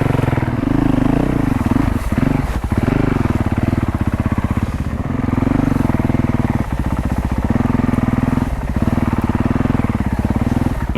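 Honda CRF450L dual-sport motorcycle ridden through a swamp, its engine droning loud and close throughout with a steady pulsing rumble and shifting revs, no speech over it.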